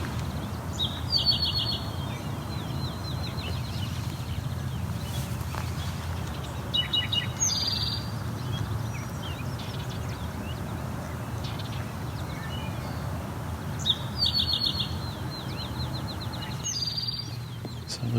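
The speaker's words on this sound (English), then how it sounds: "That again's the call from the great crested flycatcher." Great crested flycatcher calling outdoors, a few loud, sharp rising calls repeated at intervals over steady background rumble and distant birdsong.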